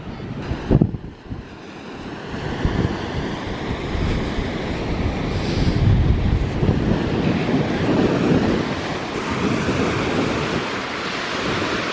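Steady, loud wind on the Big Sur coast in California buffets the microphone with a rushing roar, alongside crashing surf among rocks, continuing throughout without talk.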